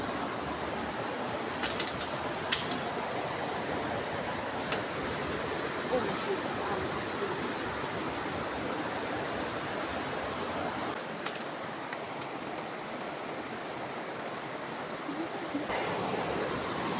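Floodwater rushes steadily along a swollen river near a fallen acacia tree, a broad, constant roar of moving water that fills the whole stretch, with a few faint bird calls over it.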